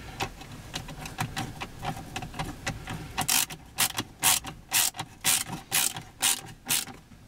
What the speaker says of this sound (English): carefully hold it in position while you get your first couple of screws in